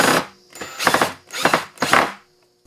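A power drill drives screws to fasten hat rack holders to a board, with four short whirring bursts separated by brief pauses, close and fairly loud.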